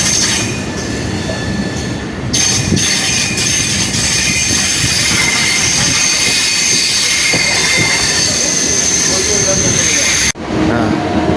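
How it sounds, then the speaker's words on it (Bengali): A train rolling near Howrah on the line toward Liluya, with loud continuous wheel rumble and rail noise, metallic squeals throughout, and a brief dip near the end as it passes through. "ট্রেনটা ঘুরছে"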